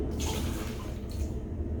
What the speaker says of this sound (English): Pouring some of this out.